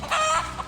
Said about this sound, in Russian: Потому что это петух, а не курица.